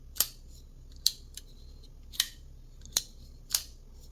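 Six sharp metallic clicks spaced irregularly over a few seconds, crisp and close, as a button-lock flipper knife blade snaps open against its double stop pins.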